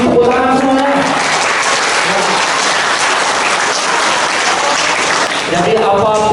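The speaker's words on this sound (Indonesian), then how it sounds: "Jadi tepuk tangan semuanya." School students applauding at a general lecture, steady dense clapping that fills the whole stretch, loud and close, with brief voices at the edges.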